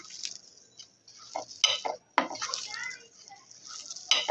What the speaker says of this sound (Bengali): ডিমটা এটার সাথে মাখিয়ে নেব বান্ডিংয়ের জন্য